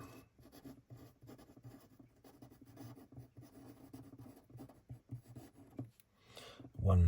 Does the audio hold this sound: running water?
no